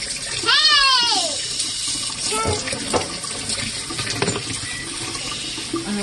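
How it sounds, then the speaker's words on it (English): A kitchen tap runs steadily as hands are washed during a children's baking lesson, the water splashing close and constant while a child and an adult talk over it. "here comes the water. Wash hands."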